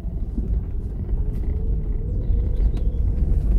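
A car crawls along a rough off-road track, a steady low rumble of engine and tyres with faint scattered knocks and rattles from the underside.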